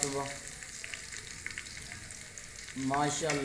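Onions frying and browning in a pan for a Pakistani daal mash recipe, a soft steady sizzle with a few light stirring clicks, and a brief louder burst near the end.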